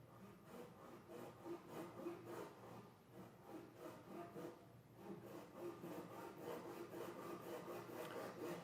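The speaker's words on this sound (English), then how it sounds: "Use a crosscut guide to make a right angle cut on the end of the workpiece." A hand saw crosscuts the end of a wooden workpiece in steady, even back-and-forth strokes, each rasping pass clearly audible and close, continuing rhythmically throughout with no talking.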